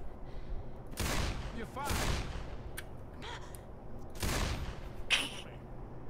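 Several bursts of gunfire from the zombie shooter game Left 4 Dead 2, short loud volleys spaced a second or two apart over a quiet background.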